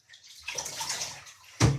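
Water sloshing and splashing in a bathtub while a cat is being washed, a steady wet churn with a louder splash near the end.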